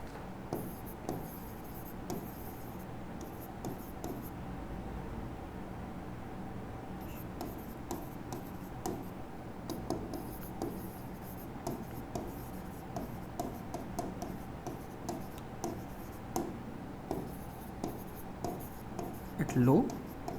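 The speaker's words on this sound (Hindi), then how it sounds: "यहां लिखता हूं" Handwritten notes being put down on paper: faint scratching pen strokes in short, irregular bursts, heard quietly beside a voice.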